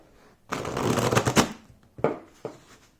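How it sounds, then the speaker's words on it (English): A deck of tarot cards, thin and springy, riffled in one quick, crisp shuffle, then a couple of short taps as the cards are squared, close up. "I'll show you how it shuffles."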